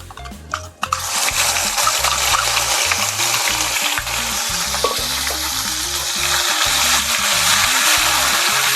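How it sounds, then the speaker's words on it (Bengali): Onion paste hitting hot oil in a pan already seasoned with whole cumin, bay leaves and dried red chilies, a loud steady sizzle and crackle that continues throughout with occasional stirring clatter. "এবার পেঁয়াজের পেস্ট দিয়ে দেবো।"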